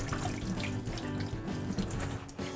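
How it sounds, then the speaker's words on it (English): Tap water runs steadily over baby kale and chopped romaine lettuce being rinsed in a sink, a continuous close splashing rush with no voices. "I'm gonna give it a quick rinse."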